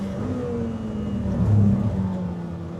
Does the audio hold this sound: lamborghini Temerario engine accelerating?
yes